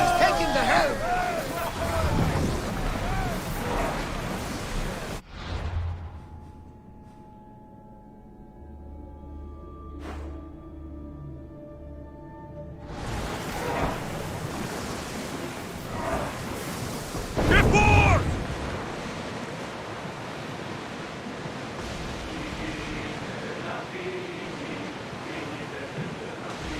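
A ship sails the open sea in Assassin's Creed Odyssey, with a broad wash of waves and wind that falls to a quiet lull midway before the surging water returns, and faint voices in places.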